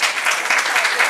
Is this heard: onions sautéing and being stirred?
no